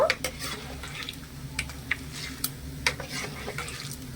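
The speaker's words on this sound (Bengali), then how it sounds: "এখানেই সাবুদানাগুলো খুব সুন্দরভাবে ভাজা হয়ে গেছে" Sago pearls fry in hot oil for a spicy sago-and-flattened-rice snack, a soft sizzle running under sharp, scattered clinks of a metal spoon against the pan.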